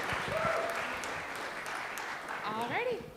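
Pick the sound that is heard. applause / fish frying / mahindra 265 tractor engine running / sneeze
applause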